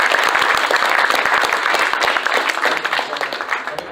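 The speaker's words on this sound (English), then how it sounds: "she deserves a round of applause just for things like that" A crowd at the 2018 Permian Basin Comic Con bursts into dense, loud applause. The clapping then thins and tapers off over a few seconds.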